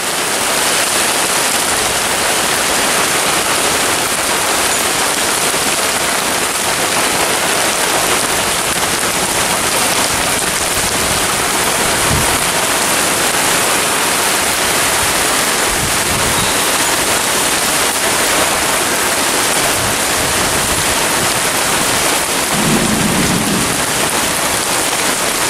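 Heavy rain pours steadily during a nighttime thunderstorm, a dense continuous hiss of downpour on a porch that stays loud and unbroken throughout, with no clear thunder standing out.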